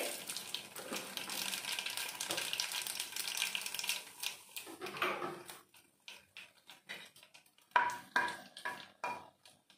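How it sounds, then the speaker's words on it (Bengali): Mustard oil crackles and sizzles with dried red chillies and nigella seeds, starting as a dense, steady hiss that thins into sparse pops and spits as the tempering settles, close and fairly quiet. "ওই তেলের ভিতর দিয়ে দেবো একটু সর্ষের তেল, দুটো শুকনো লঙ্কা, কালো জিরে"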